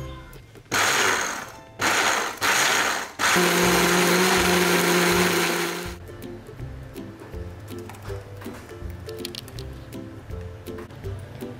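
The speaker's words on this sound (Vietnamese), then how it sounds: "nếu như nhà của các bạn mà có máy xay thì các bạn cho vào máy xay" An electric blender grinds red chili and salt into a thick dipping sauce for seafood and grilled food, loud harsh whirring bursts, three short pulses then a sustained run of a few seconds before it stops and quieter kitchen handling follows.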